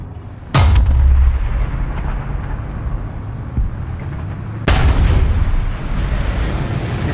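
Tank cannon shots in War Thunder, fired in a French ARL-44 tank battle against an IS-1: two loud, booming blasts about four seconds apart, each followed by a rumbling tail over a steady engine drone.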